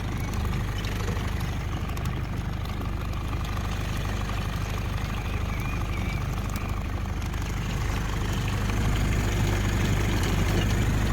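A small two-stroke outboard motor on a MacGregor 26X sailboat idles steadily in the water, a continuous low, slightly knocking putter with no voices over it.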